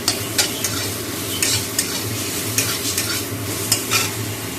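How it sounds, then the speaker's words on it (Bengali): Pumpkin fries in a pan with a constant close sizzle, while a utensil stirs and scrapes in a steady repeated rhythm. "দেখো কুমড়ো ভাজছি"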